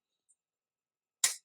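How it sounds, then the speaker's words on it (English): A single sharp snip of pruning shears cutting through a Red Tiger Abutilon (flowering maple) branch, brief and close, in an otherwise quiet garden. "So I'm going to cut it right there."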